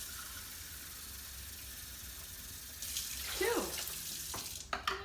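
Tap water runs into a pot of rice being measured for cooking, a steady hiss of the faucet that rises and splashes as the stream fills the pot, with a brief word spoken over it.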